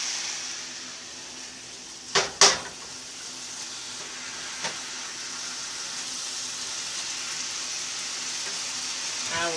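A few slices of onion fry in olive oil in a pan, giving a soft, steady sizzle with a couple of sharp clatters early on.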